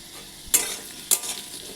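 Potatoes fry in a pan with a steady, soft sizzle, broken twice by sharp scraping stirs of a spatula, close and with no talking.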